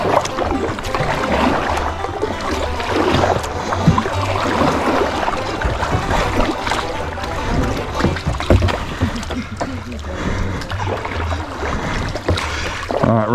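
Kayak paddling down river rapids on Farmer's Creek, with steady rushing, churning water and paddle splashes sustained throughout at close range.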